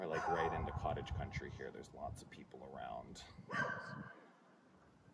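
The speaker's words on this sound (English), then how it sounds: "the neighbor's dog is out." A neighbor's dog barks several times at a distance, mixed in with someone talking steadily in the foreground during a yoga class.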